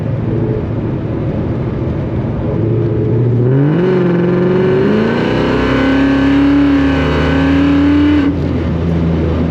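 A Whipple-supercharged, Coyote-swapped Fox body car revs up hard, its engine note climbing steadily and loud from inside the cabin, then dropping off sharply after several seconds.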